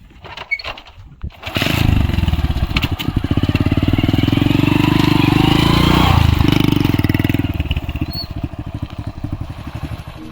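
A motorcycle engine starts with a sputter, then drones steadily as the bike rides along toward a pomegranate farm, loud and close, easing off near the end.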